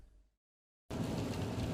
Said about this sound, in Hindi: तभी बारिश चालू हो जाती है